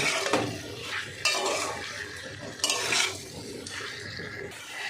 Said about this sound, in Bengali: ইঁচড়টা দিয়ে ভালো করে কষাবো মশলার সঙ্গে